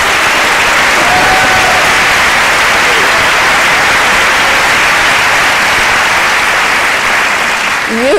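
Sustained, dense applause from an audience at an evening talk with Jane Goodall and Phil Lane Jr., a loud and even wash of clapping that stays steady throughout.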